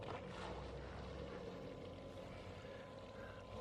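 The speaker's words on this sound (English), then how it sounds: "So there you go, the pump's kicked in" A water pump running in a drilled, mesh-wrapped bucket used as a filter, giving a steady broad rushing, churning wash of water and motor noise at low level with no talking.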